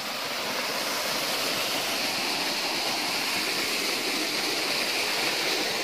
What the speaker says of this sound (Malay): Ini macam air terjun lah.